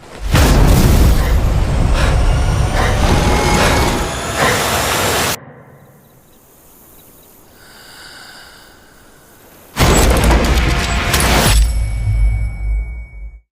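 A movie trailer explosion from Seven Snipers: a loud, close booming blast with a rumbling roar, a quieter lull, then a second heavy burst of blast noise that fades away.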